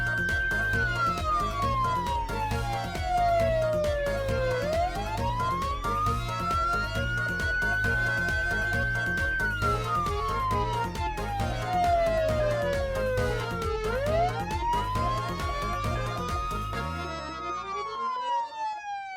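An electronic alarm from a device left on a table wails loudly in rising and falling siren sweeps, repeating about twice before cutting off near the end.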